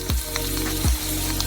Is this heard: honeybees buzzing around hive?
no